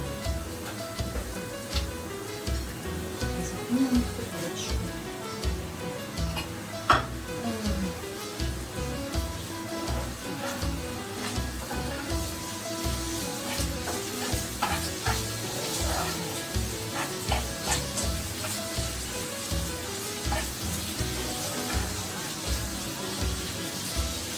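Ham frying in a pan for solyanka, a steady close sizzle that runs throughout, with occasional scraping and stirring sounds and no talking.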